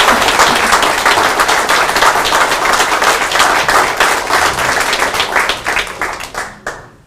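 A school audience applauds at a student presentation competition, steady loud clapping from a full room that thins out and fades to silence at the end.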